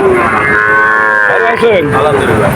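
Calves at a village cattle market in Betagi moo loudly and close, a long drawn bellow sliding into wavering lowing calls, with faint crowd noise beneath.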